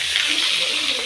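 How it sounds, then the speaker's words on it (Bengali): Potato pieces frying in hot oil in a home kitchen pan, a steady loud hiss and sizzle crackling continuously throughout, close and alone without talk. "আলুটা ভেজে নেবো।"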